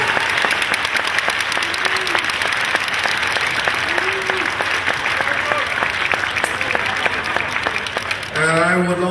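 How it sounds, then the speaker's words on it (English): An audience applauds and cheers the stage and sound crew at a Ripley Castle event, dense sustained clapping filling the room before a voice briefly breaks in at the end. "Can you big round of applause for these guys?"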